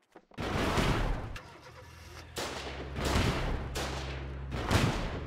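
Gunfire in the WWII-style war game Foxhole: several loud, sharp shots echo one after another over a steady low rumble, with no talking.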